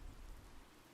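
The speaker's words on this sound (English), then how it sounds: "Oddly, the rain has come to fall yet again." Steady rainfall in the Fire Emblem: Three Houses video game, a dense, even hiss of drops with low rumbling underneath, constant and alone for the full second.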